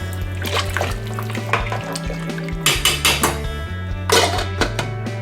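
Metal spoon scraping and clinking against a cooking pot while garlic paste is stirred, with irregular rapid knocks and scrapes, close and fairly loud.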